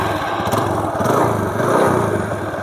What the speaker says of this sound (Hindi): तो बाइक को स्टार्ट करते हैं।